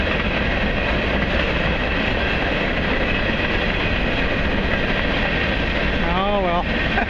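A big, fast-moving train passes unseen behind trees beside a hiking trail, a steady loud broadband rumble of rail traffic throughout, with a brief whistle-like tone near the end.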